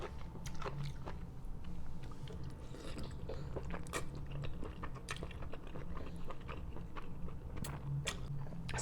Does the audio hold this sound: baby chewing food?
yes